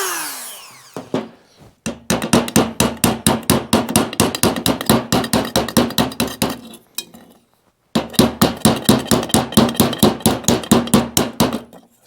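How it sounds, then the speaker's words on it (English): A ball peen hammer taps rapidly inside a 1943 Case SC air cleaner bowl, giving sharp, ringing metallic strikes in a fast steady rhythm, broken by one short pause before the tapping resumes, close and loud. "just going around with a ball peen hammer and just kind of letting the weight of the hammer hit inside"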